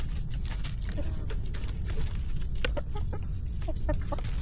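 Backyard chickens cluck and chatter continuously as they are fed food scraps, short bursts of clucking over a steady farmyard background.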